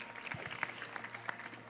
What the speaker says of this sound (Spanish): Un fuerte aplauso para él, que nos está acompañando aquí esta noche.